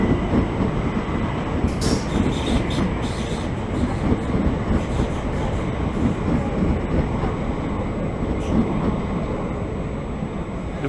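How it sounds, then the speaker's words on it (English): Train running through St. Johns station past the platform, a steady loud rumble of wheels on rails with clickety-clack and brief squealing, continuous and close. "The 376 train is going to Barnhurst."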